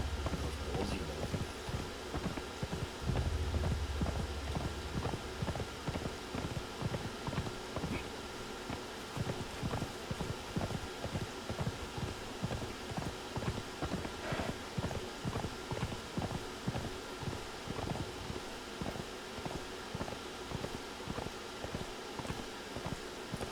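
A horse trots along in the video game Conan Exiles, its hooves striking in an even, rapid clip-clop that holds steady for over twenty seconds, close and moderately loud over a soft ambient bed.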